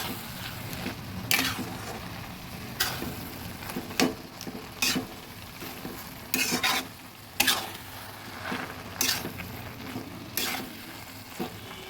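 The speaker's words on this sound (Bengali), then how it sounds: "এবার ভেজে রাখা মাছের মাথাটা দিয়ে দিচ্ছি ভালোভাবে মিশিয়ে দেবো" Fried hilsa fish head stirred into a pan of ash gourd curry, with repeated sharp scraping strokes of a spatula over a continuous low sizzle of oil, close and fairly quiet.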